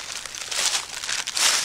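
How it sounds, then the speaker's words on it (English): A sticker being crumpled up outdoors beside an old rotted stump near a creek bank, giving a close, crisp crinkling rustle lasting under two seconds with no talk. "Don't crumple it up too much."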